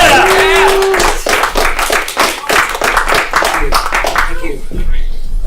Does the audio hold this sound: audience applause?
yes